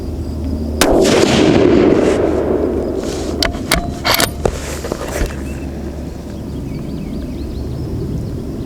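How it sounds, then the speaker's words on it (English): A Savage 12FV rifle firing Hornady 178g ELD-X loads at an outdoor range: a loud blast with a long rolling echo, then a few sharper cracks or thumps, over steady wind noise. "we're going to shoot for the top left target here"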